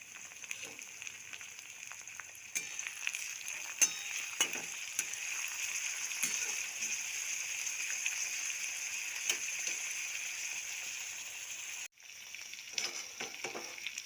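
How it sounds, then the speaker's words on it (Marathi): Coriander and onion fry in a pan for upma, giving a steady, fairly faint hiss and crackle with occasional stirring clicks, a brief break near the end and then more sizzling. "आता आपण यात कोथिंबीर घालून घेऊयात."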